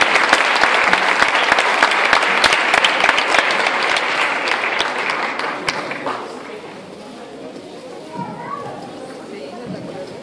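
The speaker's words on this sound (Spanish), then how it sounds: "Un fuerte aplauso, por favor." An audience claps for students of a municipal ballet school in Gáldar, loud and dense for about six seconds, then fading into quieter crowd chatter with scattered voices.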